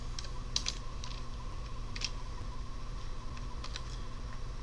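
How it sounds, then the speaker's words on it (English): Fingers tap on a computer keyboard while entering code, producing a few quiet, scattered key clicks over a steady low background hum. "Now we type in height equals"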